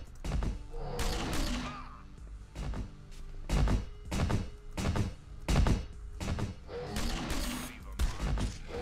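A gun fires in the video game Sots: The Pit, likely a rocket launcher. Sharp, percussive blasts come in uneven clusters, roughly eight or nine impacts with short gaps, at moderate volume with no voice over them.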